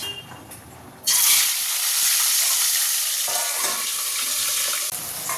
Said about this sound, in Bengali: এখানে তেল গরম হয়ে গেছে, দিয়ে দেবো মাছ।